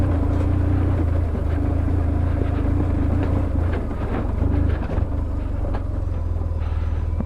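A BMW R1150GS Adventure motorcycle's engine drones low and steady up close as the rider eases off the clutch and pulls away, with a constant deep rumble and a brief dip midway.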